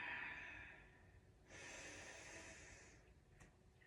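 Slow, deep breathing during a short yoga hip-opening practice: a faint, soft airy exhale fades into a second, longer breath, with no talking.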